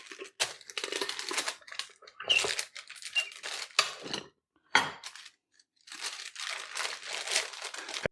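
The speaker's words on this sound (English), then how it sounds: "A tortilla press is ideal for smash burgers because the smashing is already taken care of." A quarter pound of ground beef is squeezed between parchment in a tortilla press, giving close, crinkly crunching bursts separated by brief silences.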